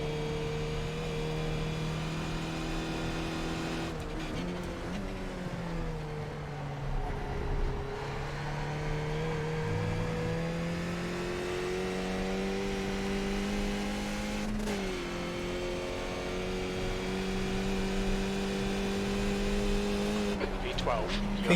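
A Skip Barber race car in iRacing on a qualifying lap: a steady, loud engine drone rising and falling with gear shifts and revs, with brief sharp breaks in the tone, under quiet talk.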